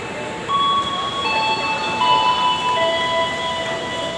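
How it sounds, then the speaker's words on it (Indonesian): The Serayu train pulls out of Pasar Senen station in Jakarta, giving a steady rumble with several sustained high metallic squeals from the wheels that overlap and shift, with no talking. "rangkaian kereta Serayu Pasar Senen Purwokerto berangkat dari stasiun Pasar Senen"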